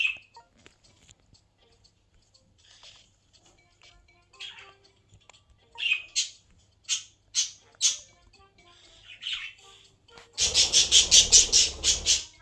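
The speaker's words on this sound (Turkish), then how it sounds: "kuşlar susun" Close birds give scattered squawks and chirps, then break into a loud rapid burst of repeated harsh calls at the end.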